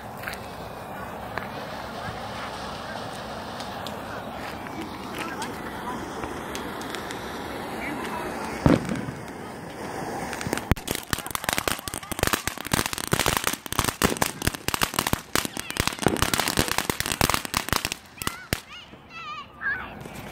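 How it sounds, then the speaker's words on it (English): Fireworks set off at a casual backyard gathering: a steady hiss and one sharp bang, then a long run of rapid crackling bursts and pops, loud and close, fading out at the end. "we got fireworks, so we're setting them off"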